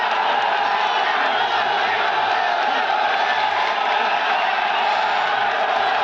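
Loud, steady crowd roar and cheering fill a Bagsik vs Karisma rap battle venue, a dense wall of voices and whoops that holds without a break.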